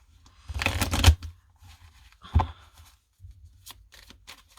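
Tarot cards being shuffled for a reading: two brisk bursts of riffling and flicking, the first longer and louder, then soft intermittent card handling, close and alone.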